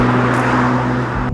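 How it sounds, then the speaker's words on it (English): A VW Golf GTI Clubsport 45 fitted with an Akrapovic titanium exhaust gives a steady, loud engine drone with a low hum throughout, alone with no talk, ending with a brief dip and a short burst. "a titanium exhaust from Akrapovic, which sounds absolutely awesome"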